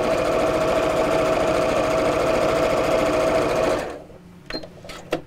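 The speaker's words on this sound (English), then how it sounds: "Just line up the edges of the two fabrics as you sew." A sewing machine runs a steady, close stitching drone along a fabric seam for about four seconds, then stops, followed by a few soft handling clicks.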